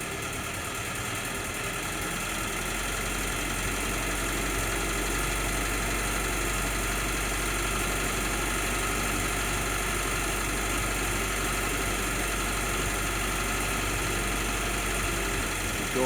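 M38A1 jeep engine idling on half choke, a continuous close rumbling idle with a steady level and a slight uneven surge, no talking.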